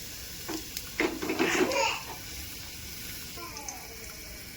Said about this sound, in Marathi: लसूण टाकून घेते आई. थोडं वेळ परतून घ्यायचं चांगलं.